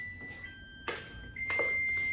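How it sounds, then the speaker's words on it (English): A home oven beeps while preheating, sounding as a steady high electronic tone with a brief pause, over soft kitchen clatter and a couple of louder knocks. "That's my oven singing because I'm preheating my oven."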